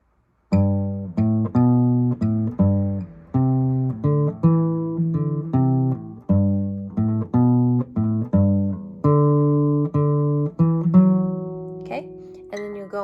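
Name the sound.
guitar playing the beginning of a lesson piece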